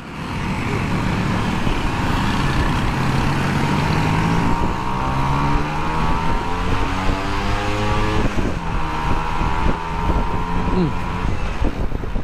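Vespa scooter ridden with a passenger aboard, its engine droning steadily and rising in pitch as it speeds up, mixed with strong wind rush on the microphone throughout.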